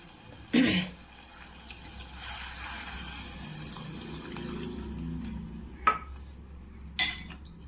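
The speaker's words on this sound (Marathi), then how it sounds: "पाणी टाकूया" Water runs and splashes into a cooking pot of drumstick curry, punctuated by a few sharp metallic clanks of cookware; no one speaks.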